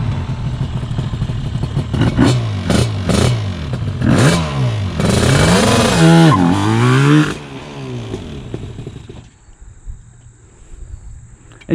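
Yamaha Banshee ATV engine revving hard in repeated throttle blips, rising and falling two-stroke whines climbing into a sustained scream before cutting off to quiet, loud and close.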